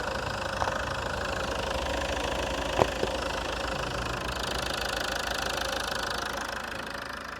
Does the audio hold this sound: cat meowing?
no